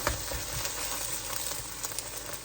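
Quiet, steady sizzling of pad thai ingredients frying thinly in a thick pan, a soft crackling hiss with scattered small pops, no voices.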